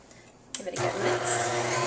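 An electric mixer starts up and runs steadily through pumpkin cupcake batter, a loud whirring motor following a few brief clicks and handling noises.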